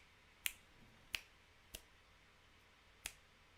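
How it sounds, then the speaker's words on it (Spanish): Four crisp finger snaps ring out alone in a quiet room, unevenly spaced, with the last one after a longer gap, so the rhythm is broken. "en ese último chasquido que he hecho, no hay simetría"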